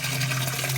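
Water pours steadily into a fish tank with a continuous, even rush and a low hum underneath, holding at a constant level throughout with no voices.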